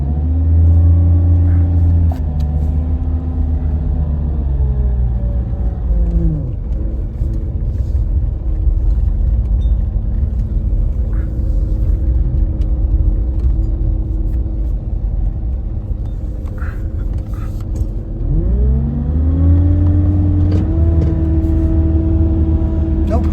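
Land Rover Discovery TD5 diesel engine labours steadily up a hill, a loud, close, continuous rumble heard from inside the cab, with its pitch shifting as the vehicle slows and picks up again.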